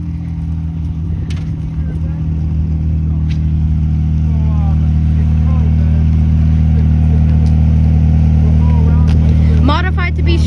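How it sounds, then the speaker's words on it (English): A McLaren Senna GTR supercar, one of 75 built and made street legal by Lazante, rolls in at a New Jersey cars and coffee meet. Its steady, deep engine rumble runs throughout while people talk nearby. "We have a McLaren Senna GTR incoming."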